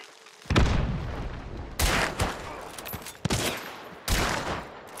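Gunfire in the video game Hunt: Showdown: four sharp, heavy shots spaced about a second apart, each a loud boom with a ringing, rumbling tail, with no talk over them.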